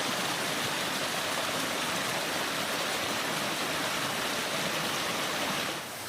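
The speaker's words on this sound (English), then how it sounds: "this is the waterfall they were telling me about. It looked like it's running pretty good." Waterfall on the Sulphur Springs Trail at Paris Mountain, running strongly: a loud, dense, continuous rush of falling water heard close, with no voices.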